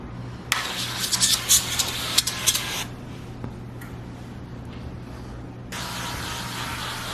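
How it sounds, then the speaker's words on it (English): A hissing spray of avocado cooking oil bursts out for a couple of seconds, pauses, then starts again over a steady background hum. "I'm gonna spray it down with some avocado oil."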